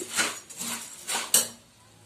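Spoon scraping and clinking against a bowl while fried poha masala mixture is tossed, a few separate bursts of dry rustling and clatter, close and fairly soft.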